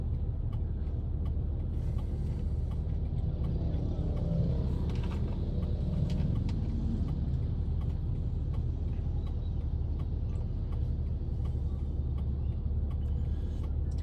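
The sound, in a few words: small field truck driving past on street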